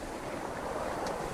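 Faint, continuous wash of surf on a pebble beach beside a port, a soft broadband rush with a little wind noise and no distinct individual wave crash.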